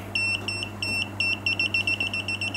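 GVDA GD166B clamp meter beeps for non-contact voltage detection in a string of short, high electronic pips, spaced at first and then quickening into a rapid rhythm, close and clear over a faint low hum.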